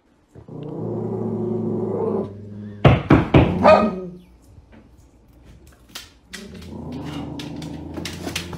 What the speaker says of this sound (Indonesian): kalau anjing menggeram itu pasti mereka ngelihat sesuatu yang menakutkan